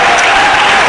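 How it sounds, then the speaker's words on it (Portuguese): A congregation at a church service claps loudly, a brief dense burst of applause filling the space without pause. "Dá um forte aplauso ao Senhor"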